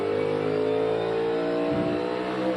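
A NASCAR Cup Series race car engine howls under hard acceleration at a steady, loud pitch during a pole-qualifying lap, with a brief lower rumble near the end.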